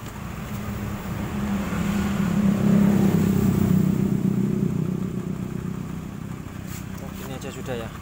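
A Honda Vario 110 scooter engine revs up to a steady, loud drone during an ignition system check, holds, then settles back toward idle, with a voice speaking over it.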